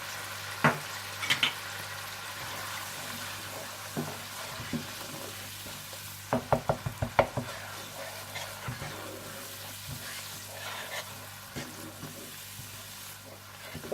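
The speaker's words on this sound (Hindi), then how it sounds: "इसमें आप डाल दें अदरक लहसुन, सूखी मिर्च पाउडर, साबुत जीरा, पिसी सौंफ और नमक डालकर अच्छी तरह से भून लें" Ginger, garlic, dried chili powder, whole cumin, ground fennel and salt fry in a pan for a pulao, giving a soft, steady sizzle broken by a few sharp clinks of stirring.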